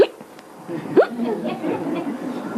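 A voice imitates sobbing hiccups, giving a few short, sharp vocal catches with rising pitch against a quiet room, one near the start and another about a second later, followed by soft breathy murmuring.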